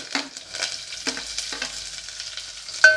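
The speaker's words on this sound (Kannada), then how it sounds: "ಸ್ವಲ್ಪ ಚೆನ್ನಾಗಿ ಫ್ರೈ ಮಾಡ್ಕೋಬೇಕು" Onion, garlic, curry leaves, dried chillies and mustard seeds fry in a pan: a soft, close sizzle with a few spatula scrapes, then a brief sharp tone at the very end.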